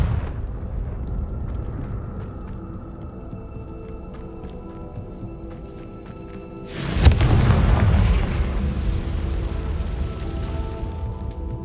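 A Confringo fire spell in the Hogwarts Legacy video game erupts into a single loud, deep boom about two-thirds of the way in, with a rumbling tail. Quieter game ambience and small clicks come before it.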